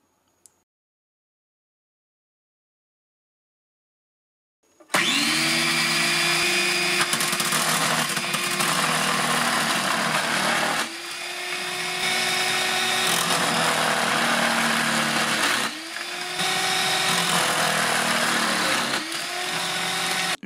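A Silvercrest KM 250 C1 food processor slicing cucumber with its slicing disc gives a loud, steady motor whine and chopping roar after a silent start, dipping briefly as the load changes, with no talking.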